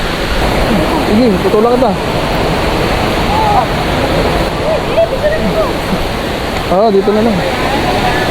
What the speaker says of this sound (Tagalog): Sir, yan ang Hulugan Falls.